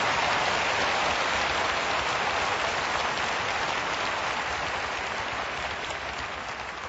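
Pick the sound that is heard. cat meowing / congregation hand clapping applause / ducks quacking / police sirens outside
congregation hand clapping applause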